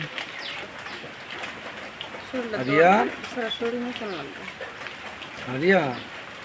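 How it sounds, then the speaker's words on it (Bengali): Rain falls with a steady hiss while a person talks over it. "বৃষ্টি হচ্ছে"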